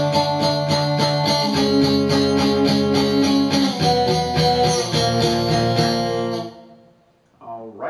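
Distorted electric guitar power chords, played as steady repeated strokes for about six seconds before stopping abruptly, with a brief voice at the very end.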